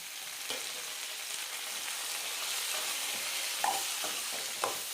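Tomatoes fry with garlic and red chillies in a pan for chicken curry, a steady soft sizzle broken by a few light stirring clinks.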